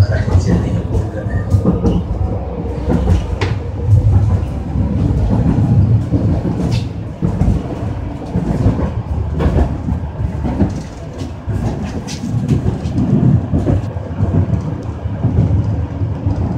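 Inside a moving 71-931M Vityaz-M tram, a steady low rumble of wheels and motors with rattling and clunks runs loudly throughout, while a recorded announcement plays over it.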